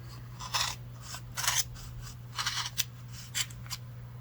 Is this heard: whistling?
no